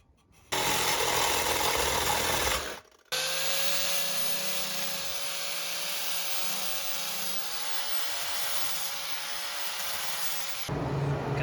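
A power tool cuts through the exhaust pipe of a forgotten 1980s moped, a loud, steady whining grind that runs for several seconds, stops briefly, then carries on for much longer and ends with rougher noise.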